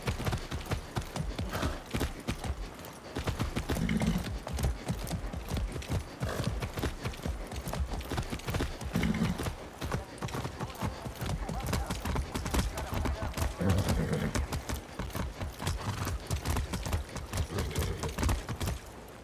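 A horse's hooves clip-clop in a steady, rapid rhythm in the video game Far Cry 6, loud and close throughout, with a few faint snorts and a voice speaking briefly over the galloping.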